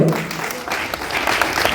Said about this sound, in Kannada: ಜೋರಾದ ಚಪ್ಪಾಳೆಯೊಂದಿಗೆ